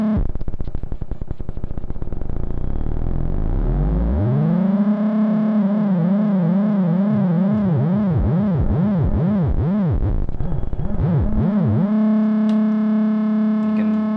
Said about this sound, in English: And feedback all the way up, and you can